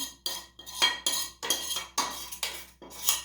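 A spoon scrapes hot apple cookie filling from a metal pot, about eight rhythmic, close strokes with short pauses between them.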